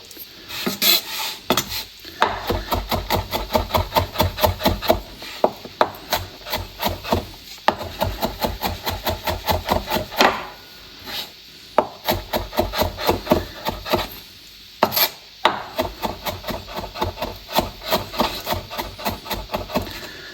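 A knife chopping ingredients for chili con carne on a wooden board, rapid rhythmic cuts in quick bursts with brief pauses, close and crisp, no talking.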